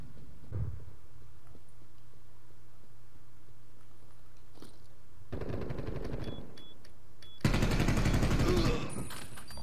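Gunfire from the video game Call of Duty: Cold War, with dense bursts of rapid automatic shots in two loud stretches after a quieter opening, heard without speech.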